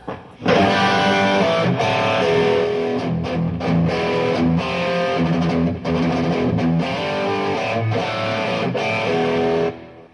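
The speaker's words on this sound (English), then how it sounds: "And then we have some basic heavy rhythm sounds" Heavy distorted electric guitar chugs out rhythmic chords with brief stops between phrases, loud and alone.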